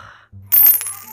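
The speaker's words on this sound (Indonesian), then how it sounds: "aku mendengar suara koin" A coin drops in the video game PK XD, a short bright metallic chime standing alone after a low hum, clear and close.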